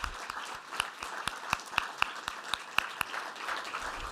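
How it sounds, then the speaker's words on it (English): Warm applause for partners and collaborators at a faculty award ceremony, a fairly quiet, sparse crowd of clappers whose individual sharp claps stand out across four seconds. "So can we give all of our partners, our collaborators, a warm round of applause?"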